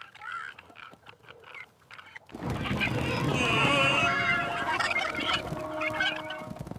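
Chickens on a farm squawk and cluck loudly in a dense, continuous flurry after a quieter start, with scattered calls through the first seconds.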